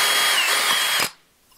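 A power drill spins up and bores a number 40 pilot hole through sheet metal, a loud, close, high whine that runs steadily for about a second before cutting off abruptly into near silence.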